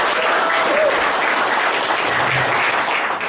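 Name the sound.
applause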